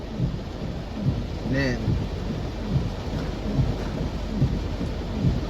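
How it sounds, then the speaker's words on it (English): Heavy rain pounds down during a flooding storm, a thick, constant roar of water with rumbling thunder. A short voice cuts through it once. "I love this rain. I love the weather. I love flooding."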